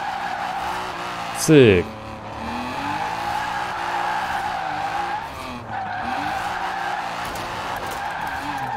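A Ford Lotus Cortina in the racing game Forza Horizon 4 revs and accelerates with a steady engine drone, broken early by a sharp, loud tire squeal, while someone talks over the engine noise.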